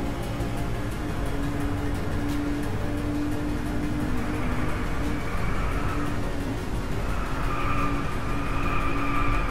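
A racing car engine in the video game Driveclub drones steadily at high revs, with tires squealing and the pitch rising and shifting, loud and continuous with no voices.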